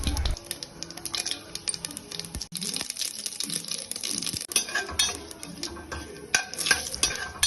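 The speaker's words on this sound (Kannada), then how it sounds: "ಆಮೇಲೆ ಒಗ್ಗರ್ನಿಗೆ ನಾ ಎಣ್ಣೆ ಹಾಕ್ಕೊಂಡು ಸಾಸ್ವೆ ಜೀರಿಗೆ ಹಾಕ್ಕೊಳತ್ತೀನಿ" Mustard seeds and cumin sizzling in hot oil for a tempering in a North Karnataka home kitchen, a crackling fry with spoon stirs and metal clinks against the pot, close and lively, no talking.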